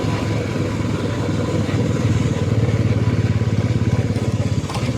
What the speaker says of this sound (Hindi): मज़ा आ रहा है बाइक चलाने में।